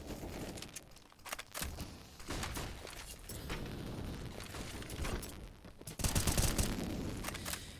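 Gunfire in a Counter-Strike match at IEM Dallas 2022, with bursts of rapid shots and sharp cracks scattered throughout, ending in a heavier volley at moderate distance.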